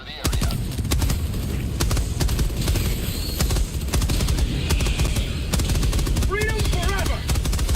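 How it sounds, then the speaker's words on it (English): An orbital barrage hits in a shooter video game: a relentless stream of sharp, loud blasts and impacts, densely packed across the whole stretch, with voices calling out over the din. "Firing orbital barrage. Clear the area."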